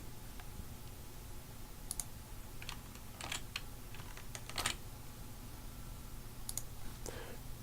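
Scattered light clicks from a computer mouse in the Unreal Editor 2 for UT99, faint and irregular over a low steady hum, some coming in quick pairs.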